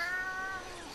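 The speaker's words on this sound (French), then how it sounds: "ça c'est mon chat" A pet cat meows in one drawn-out, tonal cry lasting under a second, fairly close and clear, heard over the quiet hum of a home setting.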